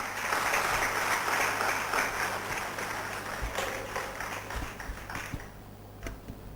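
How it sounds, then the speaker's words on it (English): Audience applause welcoming an invited speaker at an international conference at a college, a steady dense wash of clapping that slowly thins toward the end, with a few sharper claps standing out. "Please welcome our eminent speaker with a huge round of applause."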